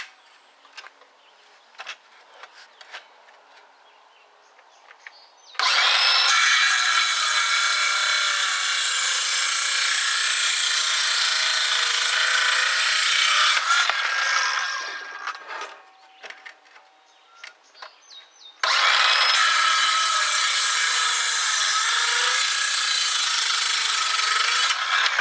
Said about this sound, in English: the saw really does struggle with the NiCad. You can hear the sound difference.